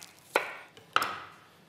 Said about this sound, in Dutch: Die snijden we in mooie tinnen plakjes.